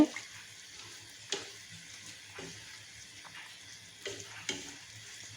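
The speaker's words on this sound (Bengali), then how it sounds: "এখন নেড়ে চেড়ে দিচ্ছি, ভালো করে মিশিয়ে নিচ্ছি মশলা আর সবজিগুলোকে।" Spices and vegetables, including home-grown beans, being stirred in a frying pan: a soft steady sizzle broken by several sharp scraping strokes of the spoon at irregular intervals.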